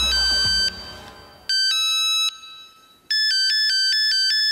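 Electronic phone ringtone for a call on an unsecured line, bright beeping tones in repeated bursts with short gaps, loud and close, followed by a fast stuttering tone pattern.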